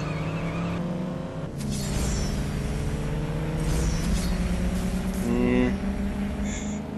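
Chevy Impala engine revving in the racing game CSR Classics, a low droning roar that rises in pitch, with tire squeal toward the end and faint talk underneath.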